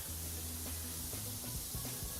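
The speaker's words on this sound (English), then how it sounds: "Let's widen our spray" A pressure washer sprays continuously in the game Powerwash Simulator 2, a steady close hiss of water jet with a faint low hum underneath.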